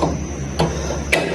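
A wrench works at a stuck bolt on a Baja Bug build, giving two sharp metallic clanks about half a second apart over a low background hum.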